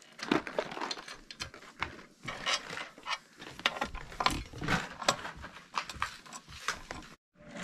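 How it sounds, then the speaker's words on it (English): A hex key tightening bolts during an equipment build, giving repeated short metallic ratcheting clicks and scrapes in irregular bursts, fairly close and moderately loud, with no talking. "we will tighten them down with the hex key provided"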